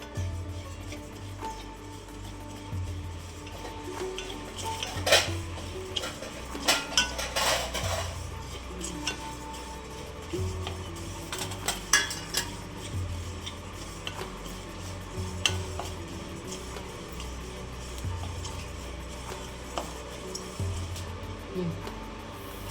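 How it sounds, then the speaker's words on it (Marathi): Cumin seeds dry-roasted in a pan while making homemade goda masala, giving soft scraping and stirring with occasional sharper clinks of a utensil against the pan, close and steady, with faint voices at times. "हे जिरं टाकलंय. हे जिरे भाजून घेते."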